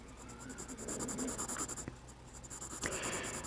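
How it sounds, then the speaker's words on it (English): Markers coloring in a drawing of Snoopy, a close, steady scratchy scribbling of felt tips rubbing on paper with rhythmic strokes throughout, with a couple of small taps. "that's one of the reasons why I chose to use markers, because if I color over it, it doesn't show"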